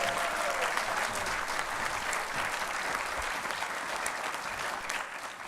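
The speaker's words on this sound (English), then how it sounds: "It sounds kind of arrogant to make you guys applaud for themselves." An audience at a dental medicine graduation ceremony applauds in a dense, steady patter of many clapping hands that fills the hall and eases slightly toward the end.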